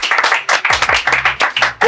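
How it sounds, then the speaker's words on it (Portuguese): A small group claps briskly and unevenly at a casual football-shirt get-together, the sharp close hand claps overlapping in a dense burst that runs steadily throughout with no talking. "Ah, palmas!"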